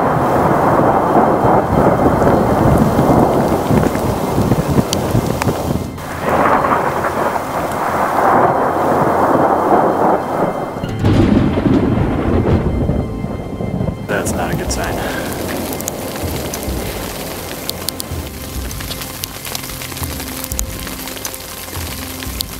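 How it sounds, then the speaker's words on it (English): A loud mountain thunderstorm in the High Sierra, with heavy rain hissing steadily and deep rolls of thunder rumbling through, easing slightly toward the end. "Luckily, mountain storms don't last forever, and they bring a little gift with them."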